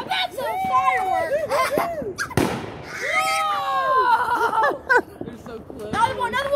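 Fireworks exploding close by in a neighborhood on New Year's, with a sharp bang and a few pops amid excited chatter and exclamations from people nearby.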